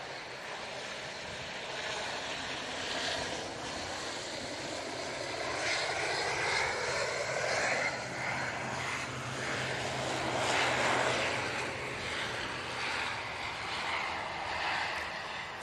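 A plane lands at Manchester Airport after a gusty, bumpy approach: a steady, fairly distant jet engine roar that swells and fades over about fifteen seconds.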